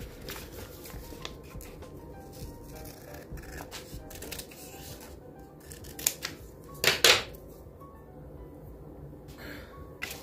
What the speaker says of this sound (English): Oh, I forgot to cut a piece off.